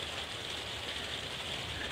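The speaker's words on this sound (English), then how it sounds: "I might have to pause for a minute while the rain heaves off" Rain falls steadily outside, a faint, even wash of broadband patter that holds constant throughout with no talking.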